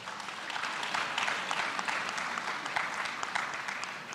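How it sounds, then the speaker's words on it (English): A panel discussion audience gives a round of applause, steady dense clapping from a room full of people, moderately distant and continuous throughout. "let's give ourselves a round of applause"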